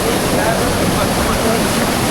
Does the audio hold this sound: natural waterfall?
yes